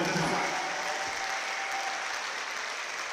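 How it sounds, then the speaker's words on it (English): A boxing event audience applauds both fighters after their bout, with dense, steady clapping that stays loud and close throughout and a voice faintly underneath. "let's give both these young men a round of applause for their fight"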